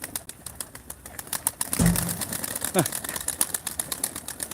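Young pigeons at a live auction flap their wings in quick bursts with a brief coo, close by, while someone talks over them.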